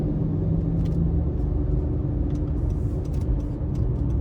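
2025 Honda CR-V EX-L in normal drive mode on a test drive, with a steady low engine hum and road rumble, a constant interior drone with faint ticks and rattles and no talking.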